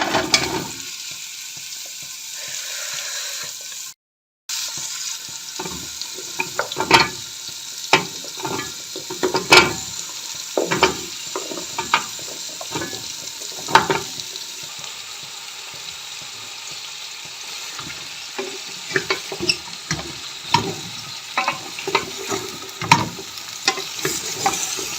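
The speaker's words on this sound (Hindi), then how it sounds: "यहाँ पर घी डाल के मैंने गाजरों को 2 मिनट के लिए फ्राई कर दिया है।" Grated carrots frying in desi ghee inside a pressure cooker, a soft steady sizzle broken by repeated scraping and clinking stirs of a spoon against the metal pot, close up, with no talking.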